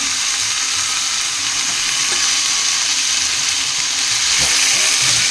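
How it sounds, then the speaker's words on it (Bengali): Chicken pieces frying in hot oil with potatoes, giving a loud, continuous close-up sizzle broken by occasional scraping as the pan is stirred. "দেখো চিকেনটাকে ভালো করে কষাচ্ছি, আলুও দিয়ে দিয়েছি এর মধ্যে।"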